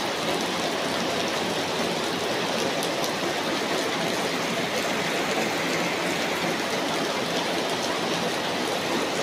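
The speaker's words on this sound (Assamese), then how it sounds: "পূৰা জাৰিছে আমাৰ ফালে বৰষুণে আৰু" Steady heavy rain falls without pause, a dense even hiss filling the whole stretch at constant loudness with no voices.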